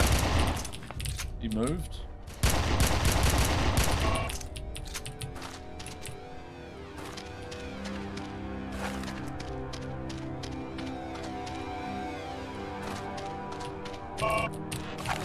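Gunfire in the PC shooter Red Faction: a loud burst of rapid shots up front, then scattered single shots and clicks over a low ambient hum, with a brief spoken remark.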